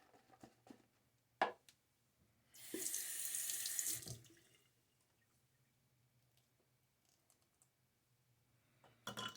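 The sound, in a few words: water running from a tap for shaving lather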